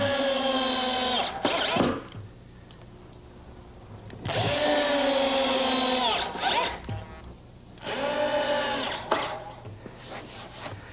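A power drill drives screws into wood in a workshop, three loud whirring bursts of a few seconds each, pitch dipping as each screw seats, with short pauses between.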